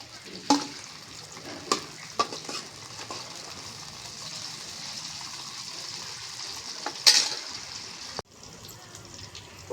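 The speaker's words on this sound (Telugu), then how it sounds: "ఇప్పుడు పచ్చిమిరపకాయ ముక్కలు వేస్తాను" Green chilli pieces sizzle in hot oil in a pan and are stirred, a steady crackling hiss broken by spatula scrapes and a sharp metallic clink, followed by a brief drop in sound.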